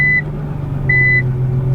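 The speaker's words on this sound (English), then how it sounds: "So that beeping noise is what you hear" Two electronic reverse-warning beeps from a Nissan GT-R, a second or so apart, a steady high tone each time, over a low constant engine hum.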